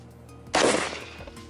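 One loud shotgun blast fired outdoors, an abrupt crack with a short decaying tail, with no talk.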